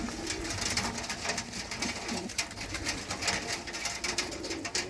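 A flock of purebred pigeons kept for sale coos close by in soft, repeated throaty rolls, overlapping one another over a busy background of fluttering and rustling.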